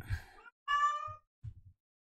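A cat meows several times: a short first call, a longer drawn-out meow, then a few faint low chirps, close and clear against silence.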